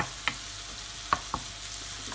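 A thick tomato thokku simmers in a pan, giving a soft, steady bubbling. Faint pops break through at a few scattered moments, and nobody speaks.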